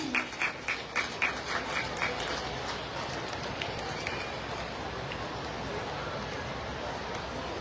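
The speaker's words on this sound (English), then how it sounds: "Let's give a round of applause to these schools for their achievements." A youth rally audience breaks into applause for schools, a dense crowd clapping from a distance, with a few sharper rhythmic claps at the start settling into steady clapping, and a voice talking faintly under it.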